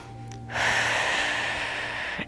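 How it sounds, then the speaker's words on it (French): A single long, steady breath drawn and released during seated chair yoga, close and clearly audible on its own after a quiet start. "Écoutez bien le son de votre respiration."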